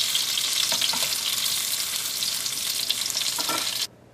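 Fish frying in hot oil for a fish pickle, a loud, continuous sizzle with occasional stirring clatter, cutting off abruptly near the end.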